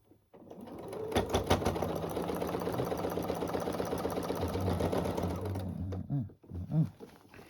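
Sewing machine stitches a seam on a small quilt runner, running steadily and close for about five seconds with a fast mechanical whirr, then slows and stops with a few soft clicks.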